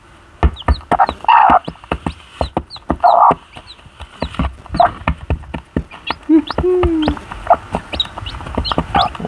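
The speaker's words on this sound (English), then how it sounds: "Bossy Betty has hatched 2 chicks." A hen with two newly hatched chicks, one hatched overnight, clucks loudly and close while the chicks peep in quick high bursts throughout, a busy, continuous chatter of barnyard fowl.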